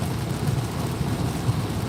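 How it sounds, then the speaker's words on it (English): Heavy rain pours down in a steady dense hiss, with low rumbling that could be distant thunder rolling underneath. "Oh, it's raining hard."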